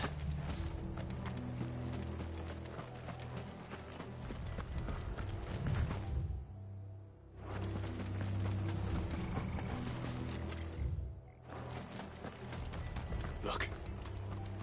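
Horses galloping in Final Fantasy 16, a rolling clip-clop of hooves under a low game score, broken by two brief near-silent gaps while a voice speaks over parts of it.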